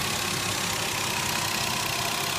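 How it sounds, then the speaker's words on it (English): A car engine with a suspected vacuum leak idles steadily close by, a continuous mid-to-low rumble with hissy broadband wash and no talk over it. "And here we have the engine running."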